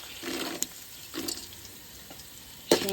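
Peanuts and curry leaves roast in a hot pan for an avalakki dish, giving a quiet, steady sizzle with a few short louder crackling bursts and a sharp clink near the end.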